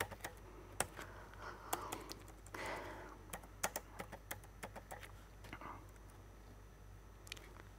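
Code being typed on a computer keyboard: irregular bursts of close, crisp key clicks and taps with short pauses, over a faint steady hum and no talking.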